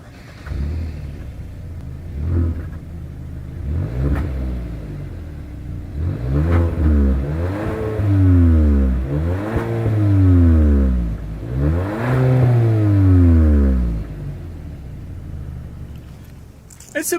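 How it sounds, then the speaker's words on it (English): A 2020 Hyundai Sonata with a single exhaust and chrome dual tips, idling low before several throttle blips swell into rising revs and fall back, a moderate rumble heard close to the tailpipe. "As always, here is that exhaust clip."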